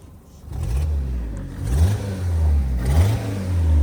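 A Fiat 500 engine with an exhaust leak revs up and down several times, its low rumbling note rising and falling in steady waves, close and fairly loud throughout.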